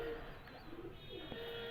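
Chaudhry-line show pigeons, numbers 5, 41 and 10, cooing softly in a loft, a low steady murmur with faint birdsong around it and no talk.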